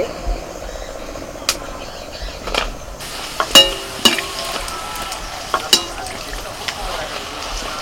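Coriander-leaf kachori deep-frying in hot oil, a steady broadband sizzle running throughout with occasional sharp clinks and taps of a utensil against the pan; no speech.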